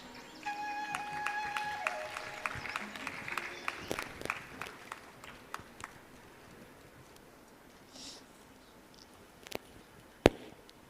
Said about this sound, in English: please keep the roaring hands, applause throughout the ceremony